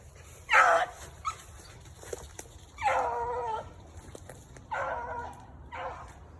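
A beagle hunting through thick briars gives three or four separate bouts of high, strained yips and barks, mid-distance and spaced a second or two apart, over quiet outdoor background.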